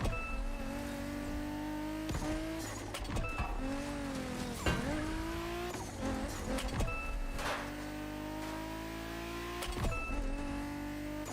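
A BMW Z4 M40i roadster in the racing game The Crew Motorfest revs loudly and steadily, its engine note rising and dropping through gear shifts, with brief tire squeals and skids.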